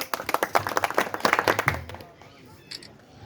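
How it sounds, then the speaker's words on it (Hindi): Crowd clapping at a Holi gathering of farmers in Jalesar, a burst of many hands over the first two seconds with voices mixed in, then fading into quieter murmur. "ताली हो जाए"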